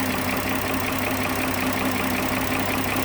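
A 2010 Dodge Journey engine idles while being checked for a misfire and a lit check-engine light. It runs as a steady, even drone with a low mechanical hum and no break, close up.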